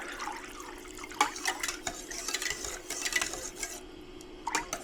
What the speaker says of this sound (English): Give it a quick little mix.